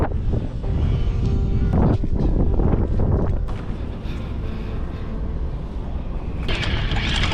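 A small boat's low-battery electric motor pushes slowly forward, a low steady hum beneath heavy wind buffeting and splashing water, with a few knocks and clatters.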